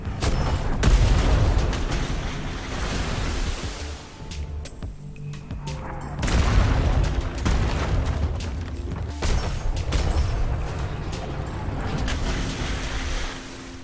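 Ship cannons on a speed schooner in the game Atlas fire in a rolling series of heavy booms, with repeated loud blasts and rumbling lulls between volleys.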